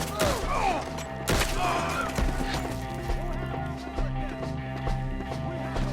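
Dense Red Dead Redemption 2 gunfight, a firefight against enemies up in the trees, with loud overlapping gunshots, horse whinnies and running amid shouted dialogue from characters.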